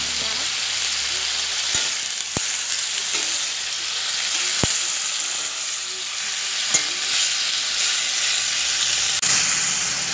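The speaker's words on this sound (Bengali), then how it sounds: "শাকটা ভালো করে কষাতে হবে, ভালো করে ফ্রাই করে নিয়ে" Leafy greens fry loudly in a pan with turmeric and chilli, a dense continuous sizzle broken by a few sharp clicks of a spatula against the metal as they are stirred.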